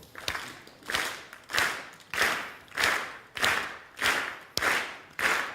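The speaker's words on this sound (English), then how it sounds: "I'd like everybody in the room to please clap at this tempo" A room full of audience members at a talk clap their hands together in unison at a steady 96 beats per minute, with about eight loud, evenly spaced claps and no voices between them.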